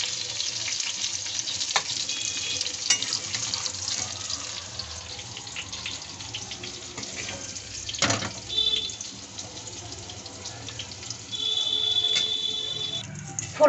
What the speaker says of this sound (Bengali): পটলগুলো ভাজা হয়ে গেছে,